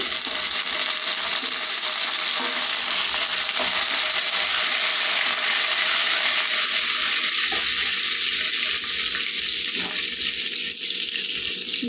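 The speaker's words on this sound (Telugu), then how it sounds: "జీలకర్ర ఆవాలు వేసుకుందామండి ఎండుమిరపకాయలు ఉండండి కొద్దిగా కరేపాకండి" Cumin, mustard seeds, dried red chillies and curry leaves frying in hot oil, producing a loud, dense, continuous hiss and crackle close by, with no talking.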